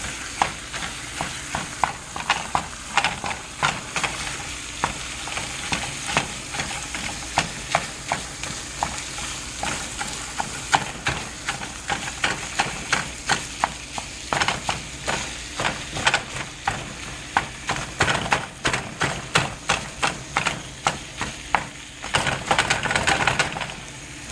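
Cold ground meat for lasagna sizzles and crackles steadily in a hot pan, with rapid scraping and chopping taps of a spatula throughout, fairly close.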